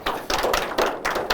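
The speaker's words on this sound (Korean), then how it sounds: "박수로 맞이해 주셔서 감사하겠습니다" Lecture audience clapping in welcome for a philosophy lecturer, a short burst of scattered hand claps in a small room, moderately loud with no talk.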